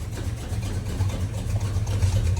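A cheap used motor running in a truck with a bad carburetor and leaking oil, a steady low, lumpy idle with an uneven pulsing throb heard close up and with no talk.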